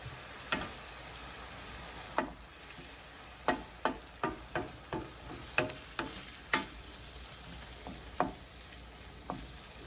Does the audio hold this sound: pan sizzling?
yes